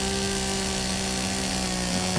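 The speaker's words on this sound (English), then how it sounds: "check out how the belt on this chainsaw's perfect for going through this hedge" A chainsaw cuts through a hedge with a steady, droning whine that holds unbroken for a couple of seconds, with no voices over it.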